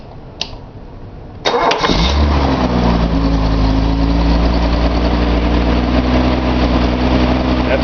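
A Nissan 280Z engine on a test stand cranks briefly, catches and fires up, then settles into a loud, steady idle that runs to the end, with no voices over it.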